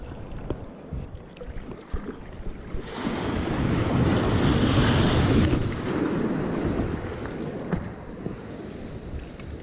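Ocean surf rolls in steadily, swelling into a louder wave crash midway before easing back, with wind buffeting the microphone throughout.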